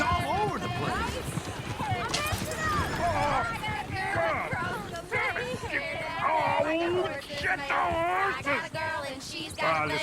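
Hooves of a runaway coach horse clip-clop at a quick, uneven run in a Red Dead Redemption 2 street scene, with whinnies and crowd babble, while people talk loudly over the top.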